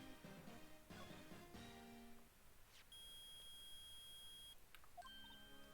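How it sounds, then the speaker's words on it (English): A metal detector in a video game gives a steady, high electronic beep for about two seconds amid game music and chimes, then shorter tones follow. "It's beeping! The metal detector's found something!"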